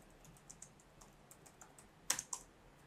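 Typing on a computer keyboard while entering code: sparse, quiet key taps at first, then a louder burst of three or four sharp clicks near the end, close and alone with no speech.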